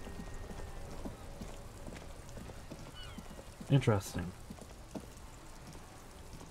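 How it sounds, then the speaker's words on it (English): Steady, soft rain patters in the video game Disco Elysium, a constant hiss under the scene. A voice speaks briefly partway through. "It's raining again."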